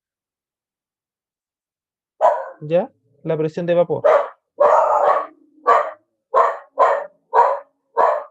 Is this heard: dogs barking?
yes